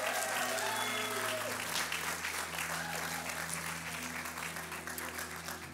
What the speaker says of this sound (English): Come on, give yourselves a round of applause.